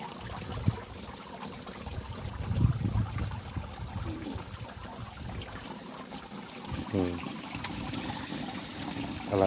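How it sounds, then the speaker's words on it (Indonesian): Clear stream water splashes and trickles as someone washes their face outdoors in a quiet rural mountain village. A soft, continuous watery wash runs with a few louder splashes and some faint background sounds. "Kita cuci muka dulu."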